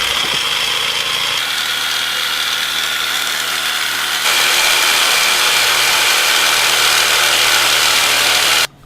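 A rotary power tool cuts slot holes in plastic with a loud, steady whirring drone whose pitch and load shift midway, then the tool stops abruptly at the end.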